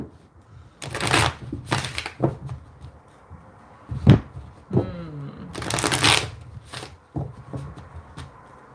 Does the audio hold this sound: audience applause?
no